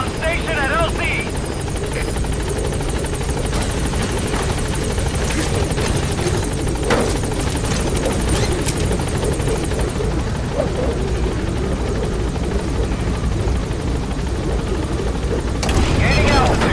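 Support helicopter from the Metal Gear Solid V video game, a loud, steady rotor roar with throbbing blade chop that holds throughout, along with a radio voice and some brief bangs in the background.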